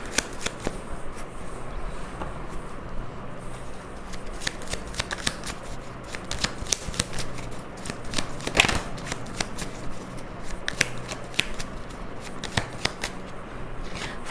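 Tarot cards being shuffled during a Hindi tarot reading, a steady run of soft riffling and slapping bursts that continues for the whole stretch, close and fairly quiet, with no talk over it.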